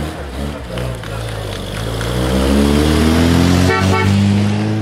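A 1974 Triumph Spitfire pulls away at the start of a veteran car rally, its engine drone rising steadily in pitch and loudness, close by with crowd murmur around it.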